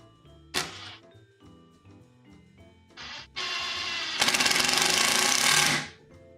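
Structural screws driven into wood with an impact-style power driver: a short burst, a brief pause, then two long, loud, close whirring drives with rapid hammering pulses before winding down, and no speech.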